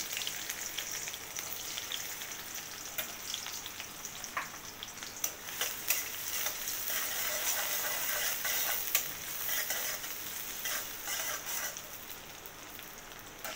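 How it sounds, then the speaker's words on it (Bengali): Onions frying in hot mustard oil give a steady, fairly loud sizzle with scattered crackles and the occasional clink of stirring throughout, with no talking. "তেলটা গরম হয়ে গিয়েছে, তো আমি এখন একটু পেঁয়াজ দিয়ে দিচ্ছি"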